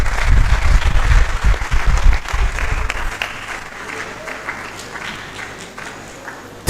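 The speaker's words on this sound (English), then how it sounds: "A standing ovation and a rousing applause." A lecture hall audience applauds in a standing ovation after an inaugural university lecture, dense loud clapping that gradually thins and fades, with a voice speaking over the tail.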